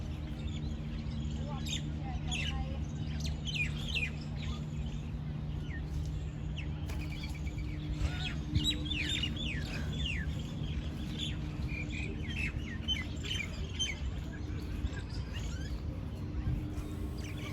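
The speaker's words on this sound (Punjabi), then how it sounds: "ਜੋਗਰ ਪਾਰਕ ਦੇ ਵਿੱਚ ਪੰਛੀਆਂ ਦੀਆਂ ਮਿੱਠੀਆਂ ਮਿੱਠੀਆਂ ਆਵਾਜ਼ਾਂ ਬੜਾ ਹੀ ਦਿਲ ਨੂੰ ਮੋਹ ਰਹੀਆਂ ਸੀ" Scattered bird chirps and tweets sound from several directions in Jogger's Park over a low steady hum, with insects faintly in the background.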